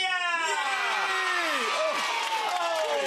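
A children's studio audience on a TV show cheers and shouts together in a continuous, loud wash of young voices that lasts the whole stretch.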